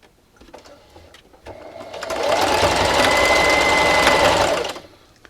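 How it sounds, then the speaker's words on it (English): A sewing machine backstitches through thick fabric for a dish scrubber at a longer stitch length, running as one steady, loud, close mechanical whir for about three seconds after some soft handling noise. "I'm going to backstitch 2 or 3 times here at the beginning."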